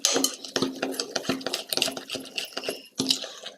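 Galette filling stirred in a bowl, a utensil scraping and clinking against the sides in quick irregular strokes, close and fairly loud, with no voices.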